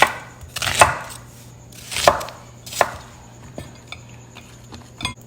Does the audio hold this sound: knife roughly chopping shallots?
yes